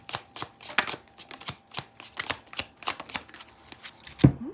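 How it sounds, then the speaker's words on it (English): Cards from a Tarot de la Nuit deck shuffled and drawn in a series of quick, crisp flicks and slides, close up, ending with a soft tap. "So I'm going to take 3 cards right now."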